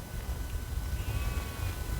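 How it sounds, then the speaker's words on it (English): Sheep bleating far off across open farmland near Hazlehead Farm at lambing time in April, faint and distant calls under a steady low rumble of wind or background noise. "In the distance, you can hear all them sheep."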